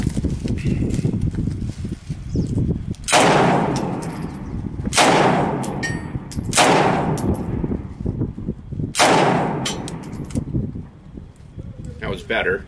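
Four sharp, loud gunshots from a CF-W A bolt-action rifle fed by a Shockwave magazine, spaced a second or two apart, each with a short decaying tail over steady background rumble.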